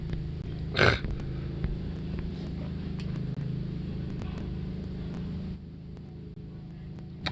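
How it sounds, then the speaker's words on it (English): A steady low droning hum with rhythmic throbbing persists throughout, like a helicopter passing overhead at a distance, fading slightly near the end. "That's a helicopter."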